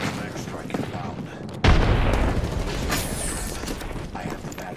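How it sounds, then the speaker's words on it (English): A frag grenade detonates in Apex Legends, one loud sudden boom partway through that decays into a rumbling tail, set against ongoing gunfire and game noise. "Throwing frag."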